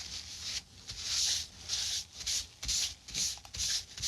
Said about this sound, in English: a bit of white spirit to get rid of the sawdust.